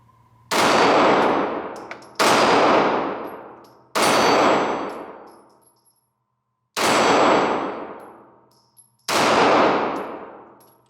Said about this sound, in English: I'll try to do a few rounds with the laser, and I'll try to do a few rounds just my 3-post sights